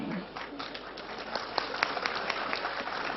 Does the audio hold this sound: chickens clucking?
no